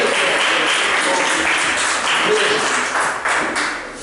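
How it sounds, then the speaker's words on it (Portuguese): A church congregation applauds during a worship service, a dense, steady wash of many clapping hands filling the room throughout, fairly loud and continuous. "Dá uma salva de palmas para Jesus"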